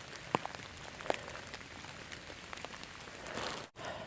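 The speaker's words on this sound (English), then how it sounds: "This rain kind of sucks" Rain patters through a forest on the Midstate Trail in Douglas State Forest, Massachusetts, a soft, steady hiss broken by a few sharp nearby drips or taps.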